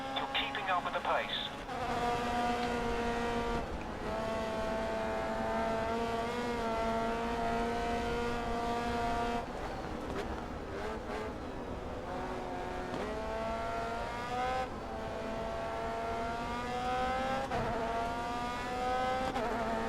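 Race car engines in the video game Grid Autosport, a continuous high, whining drone that holds steady and shifts pitch as the cars accelerate and lift through the lap.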